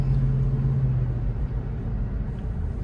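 A Dodge car bought at auction drives along a road, its engine rumbling steadily low with a brief humming tone early on, then a slight dip as a gear change passes; no talking.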